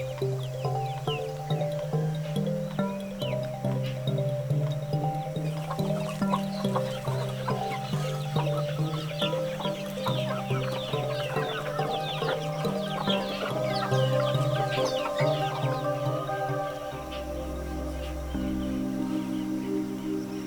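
Chickens cluck steadily on a small Brazilian farm, several birds calling close by in overlapping bursts over a continuous bed of outdoor noise, with a louder low honk near the end.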